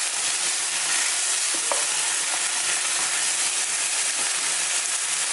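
Beef tripe sautéing in a pan gives a steady, unbroken sizzle with a bright hiss throughout, close and even in level, with a faint clink or stir or two and no voices.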